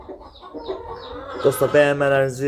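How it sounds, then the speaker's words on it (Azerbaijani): Curious backyard hens in a garden cluck close by, a few short throaty clucks building toward the end while a person keeps talking over them. "Toyuqlar həqiqətən də hər şeylə maraqlanan belə deyim canlılardır"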